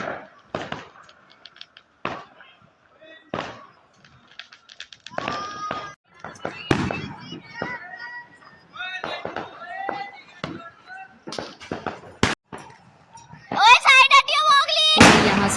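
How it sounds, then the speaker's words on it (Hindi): Diwali firecrackers and bombs burst in a street, sharp loud bangs at irregular intervals, some near and some farther off, with a crackling cluster near the end; people talk and shout between the blasts. "यहाँ पे हमने फोड़े बहुत सारे बम पटाखे।"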